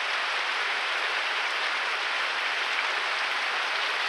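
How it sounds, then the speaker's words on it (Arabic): Heavy rain falls steadily in Canada, a dense, even broadband hiss that holds unchanged throughout with no voices. "Very heavy rains."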